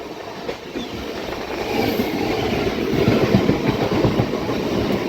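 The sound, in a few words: Intercity Superfast Express train running on rails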